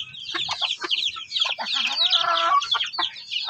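An upgraded native hen close to breeding clucks and chatters in short, repeated bursts, close by, with a longer drawn-out cackle in the middle.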